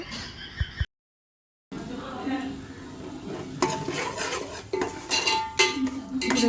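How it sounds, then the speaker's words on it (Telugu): Ginger garlic paste fries in a pot for goat head biryani, a spoon clinking and scraping as it is stirred. The stirring stops briefly to near silence, then returns with busier scraping over a soft background sizzle. "అల్లం వెల్లుల్లి పేస్ట్ బాగా వేగనివ్వాలి"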